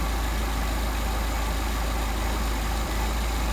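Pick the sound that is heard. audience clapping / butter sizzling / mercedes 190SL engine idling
mercedes 190SL engine idling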